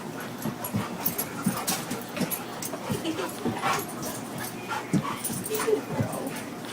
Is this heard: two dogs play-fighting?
yes